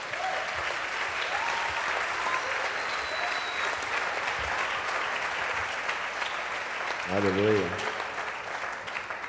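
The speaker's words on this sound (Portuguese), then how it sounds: "Você pode dar um forte aplauso ao Senhor?" A church conference crowd claps steadily and loudly in a continuous wash of applause, with a voice briefly exclaiming near the end.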